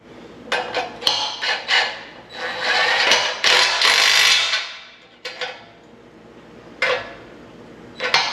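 Metal clicks and clanks from a ratchet tightening bolts on a steel bracket for a custom grade control system, a run of sharp taps followed by a longer grinding, rattling stretch and a few isolated clicks, loud and close with no talk.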